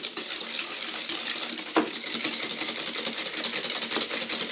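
Egg yolks being whisked with powdered sugar in a bowl for a lemon tiramisu: a quick, steady clatter of the whisk against the bowl, close and continuous, with no voices.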